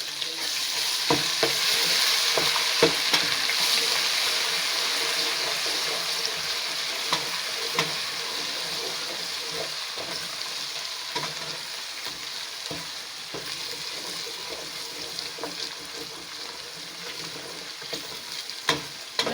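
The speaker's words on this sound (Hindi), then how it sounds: "अब हम अदरक लहसुन का पेस्ट इसके अंदर डालेंगे, उसको अच्छे से फ्राई कर लेंगे" Ginger garlic paste fries and sizzles with onions in a hot pan while it is stirred. The sizzle holds a steady, close hiss for the whole stretch, with stirring scrapes now and then.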